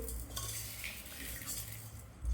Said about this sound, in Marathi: सर्व मिश्रण एकजीव करून घेऊ